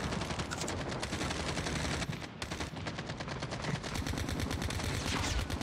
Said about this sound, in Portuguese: o cara atirando em mim também